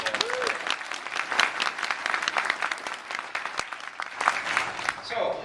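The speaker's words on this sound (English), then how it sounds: "So again, give yourselves a round of applause." An audience at a Coldwell Banker real estate rally in Virginia Beach claps steadily for several seconds, a dense, fairly close wash of hand claps that trails off at the end.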